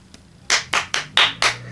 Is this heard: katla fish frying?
no